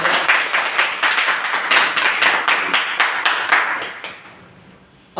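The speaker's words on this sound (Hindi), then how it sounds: "तो एक बार जोरदार ताली बजाओ" Loud, fairly rhythmic clapping from an audience at a talk or lecture, many hands striking in quick regular beats for about four seconds before it fades away.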